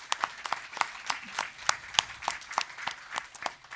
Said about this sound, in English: So I just want to give her a round of applause, but a round of applause to all of the school sites.